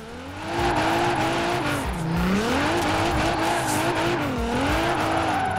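In Forza Horizon 4, a car slides across an icy track with a loud, continuous tire squeal that wavers in pitch as it drifts. The engine drones steadily beneath the squeal.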